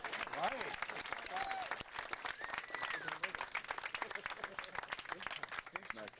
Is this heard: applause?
yes